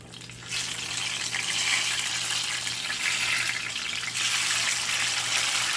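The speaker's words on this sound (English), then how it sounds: "we are going to continue to fry more spiders, more arañitas" Arañitas frying in hot oil, a loud, close, continuous bright sizzle that begins abruptly after a half-second and holds steady with slight surges, alone without talk.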